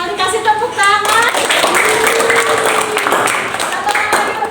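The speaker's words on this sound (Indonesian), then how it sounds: "Kasih tepuk tangan." Classroom students burst into dense, sustained applause, loud and close, taking over right after a brief voice at the start and continuing to the end.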